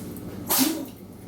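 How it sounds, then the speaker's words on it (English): A single short sneeze from a dog, a sharp burst of breathy noise in an otherwise quiet room. "you got my dog sneezing in the background"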